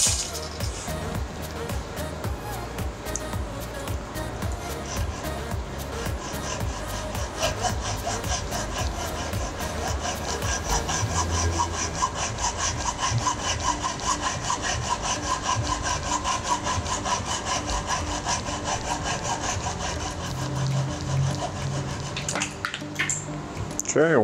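A hand saw cuts through a workpiece along a marked line a few millimetres below the mark, held in a vise. Quick, rhythmic rasping strokes continue steadily and close up, with no talking.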